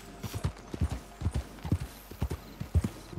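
Horse hooves clip-clop in a steady walking rhythm in Red Dead Redemption 2, close and distinct, with a faint hollow backdrop and no talking.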